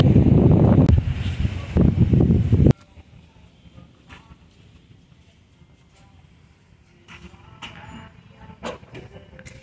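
Strong gusty wind buffets the microphone in a loud, roaring burst outdoors outside a Goodwill thrift store in Boca Raton, then drops away to a quieter, breezy background.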